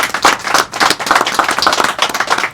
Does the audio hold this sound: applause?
yes